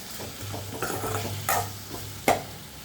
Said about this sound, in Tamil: நல்லா இதை கலரி விடலாம்.